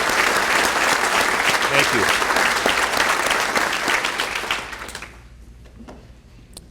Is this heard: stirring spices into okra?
no